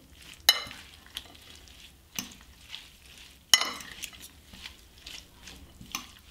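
Peppers are mixed with vinegar in a container, heard as quiet intermittent stirring strokes with sharp clicks and scrapes at uneven intervals over a faint wet background.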